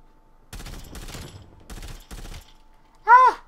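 Short, close bursts of M16 burst rifle fire from the game Call of Duty: Black Ops Cold War, three separate volleys fired in quick succession, followed by a brief high-pitched game sound.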